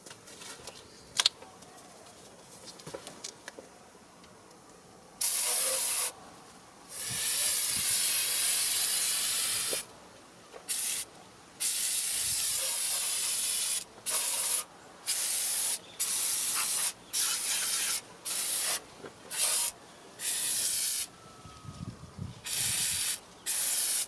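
Long hissing sprays from an aerosol can of degreaser in a car engine bay, first sustained, then broken into a rapid series of short bursts separated by brief pauses, close and loud.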